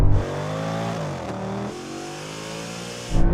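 Audi RS driven hard with ESP off and the gearbox in sport mode: a loud, close engine climbs steadily in pitch, briefly dips at a gear change, then surges again at the end.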